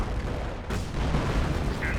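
Artillery fire in the WWII strategy game Company of Heroes, heard as a dense, rumbling battlefield din with booms and distant gunfire, steady and fairly loud with no clear individual shots.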